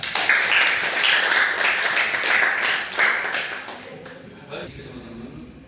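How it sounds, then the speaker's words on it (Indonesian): Students in a classroom clap for a classmate about to present an infographic, a brisk crowded burst of hand claps that fades out after about four seconds into quiet room noise and a few stray taps. "Kita tepuk tangan dulu buat Kayla."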